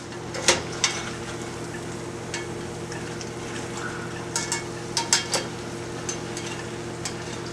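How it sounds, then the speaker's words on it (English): Shrimp beignets cook in a pan while food is stirred, giving a low frying hiss under scattered clicks and scrapes of a utensil against the pan, some in quick clusters. "let me give this another stir"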